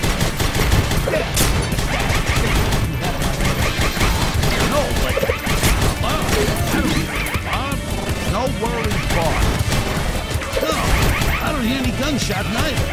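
Continuous dense gunfire and crashing impacts from the video game Huntdown, a relentless barrage of shots and smashes with voices mixed in the chaos.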